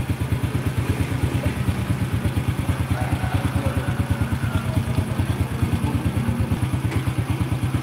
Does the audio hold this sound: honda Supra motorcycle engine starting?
yes